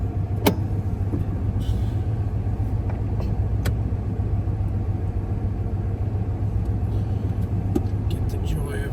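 A GTS car driving away from a car show in Omaha, Nebraska, heard from inside as a steady low road and engine rumble with a few faint clicks and knocks over the drone.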